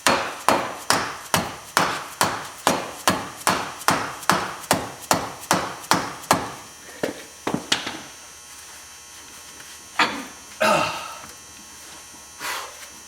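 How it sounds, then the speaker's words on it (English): A soft hammer pounds out the splines of a CV axle on a 2004 Chevrolet Silverado 2500HD: about fifteen evenly spaced strikes on metal, then a few scattered knocks and a louder clank, with a low hum beneath. "I'm going to use a hammer here, a soft hammer, to pound out this splines on this"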